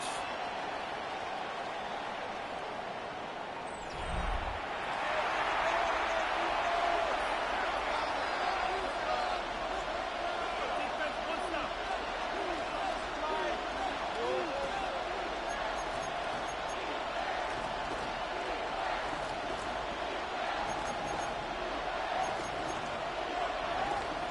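Stadium crowd noise in a Madden Ultimate Team American football game with the Steelers at third down: a low murmur swells suddenly into a steady, sustained cheering roar that holds to the end.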